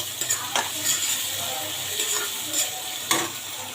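Sliced onions with salt frying in a pan for a Bengali meat bhuna, a steady sizzle broken by a few sharp scrapes and taps of a spatula against the metal, close and fairly loud.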